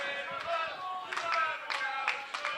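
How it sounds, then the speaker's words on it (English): Crowd cheering and clapping erupts at a pool match at the Welsh Pool Festival at Trecco Bay, a mix of applause and voices in a steady, moderately loud burst with sharper claps standing out. "That's all the cheering's there because Craig Marsh has just gone in off."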